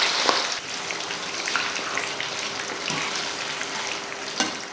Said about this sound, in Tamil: சிக்கன் வந்து பொரிச்சாச்சு இப்போ எடுத்துடலாம்